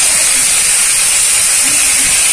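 Kashmiri chili powder and cumin-coriander powder hitting hot oil and onions in a pan give off a loud, continuous, close sizzle, a bright, even hiss that never lets up.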